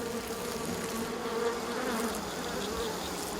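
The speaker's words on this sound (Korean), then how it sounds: "땅속에서 꺼낸 장수말벌의 집." Giant hornets buzz steadily at their underground nest just dug out of the soil, a dense, continuous drone of many insects close by with no voices.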